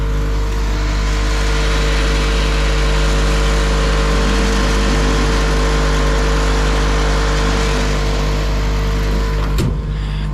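Air compressor running to fill its tank, a loud, close, constant mechanical hum with steady tonal whine that holds evenly throughout, ending with a brief sharp knock near the end.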